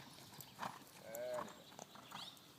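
A horse trained in a Chambon moves on foot, its hooves clip-clopping quietly in a faint, uneven patter, with a brief tonal squeal around the middle and a low hiss behind it.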